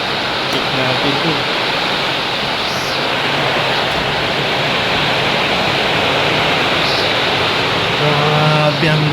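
Torrential rain drums on and around a small hut in a thick, continuous roar, loud and close, holding steady throughout with a slight swell near the end.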